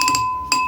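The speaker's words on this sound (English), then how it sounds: "Give it a good stir." A spoon stirs a pink New Year's drink in a glass, making a couple of quick bright clinks, then a short pause and one more ringing tap, close and clear.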